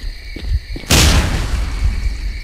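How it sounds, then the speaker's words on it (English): Grenade going off in STALKER: Clear Sky, a loud close boom after a couple of soft thumps, with a rumbling, crackling tail that fades slowly, no talking. "No, not with the grenades!"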